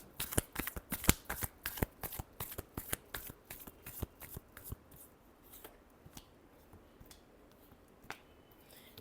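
Tarot cards being shuffled in a last shuffle: a rapid run of crisp riffling clicks, dense and steady at first, then thinning to scattered snaps, close up and alone.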